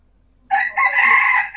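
A single rooster crow, loud and close, rising and held for about a second.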